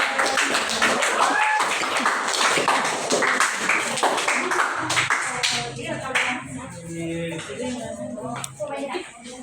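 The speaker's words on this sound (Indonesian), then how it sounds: "tepuk tangan dulu untuk Humaira" A group claps and cheers loudly for several seconds at a classroom teaching exam, the applause thinning out and fading toward the end with some voices.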